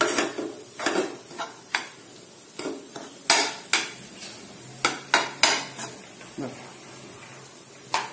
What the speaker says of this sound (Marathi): आता कोथिंबीर छान आपण याला मिक्स करून घेऊया.